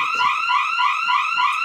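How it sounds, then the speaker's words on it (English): An electronic alarm beeps in a rapid, warbling, repeating pattern, steady and fairly loud, with no voices over it. "That's my alarm."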